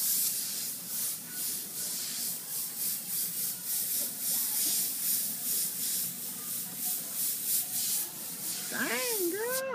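Airbrush spraying paint: a continuous close airy hiss with faint rhythmic pulsing throughout, joined briefly near the end by a higher whistling or squeaking tone.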